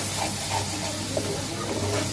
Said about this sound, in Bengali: ভালো করে পেঁয়াজটা ভাজবো